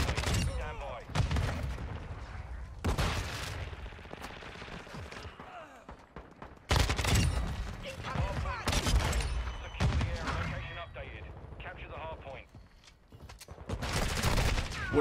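Shotgun fire in Modern Warfare 2 comes in loud, close bursts of blasts separated by short lulls, with a player talking intermittently over the gunfire.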